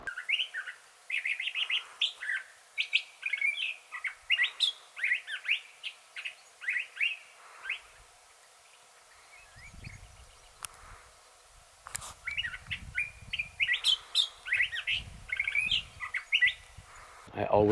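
A thrasher calls in the Sonoran Desert with loud, clear bursts of whistled, warbling song in repeated phrases. Low rumbling handling noise and a quiet voice come in during the second half.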